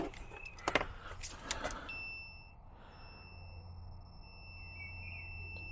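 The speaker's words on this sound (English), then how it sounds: "We'll test this to beep now." A digital multimeter set to continuity gives a steady, high electronic beep while checking wiring for a DAF LF truck's APU. The tone follows a few brief clicks and handling clatter and holds unbroken to the end.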